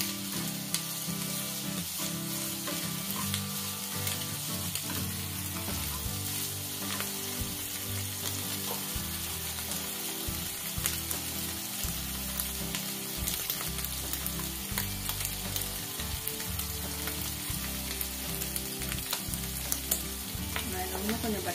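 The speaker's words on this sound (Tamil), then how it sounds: "ஹை ஃப்ளேமில் நல்லா ஃப்ரை பண்ணி எடுத்துக்கலாம்." Snails frying in garlic butter over a high flame, a constant bright sizzle with stirring, close up, with background music playing underneath throughout.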